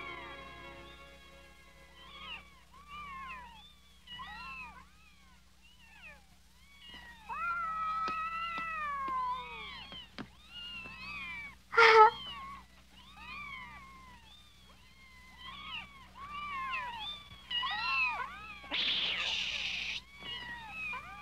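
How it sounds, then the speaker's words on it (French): Several small, high-pitched meows repeat in quick succession, close by, with brief pauses and a short rustle near the end. "Des chatons."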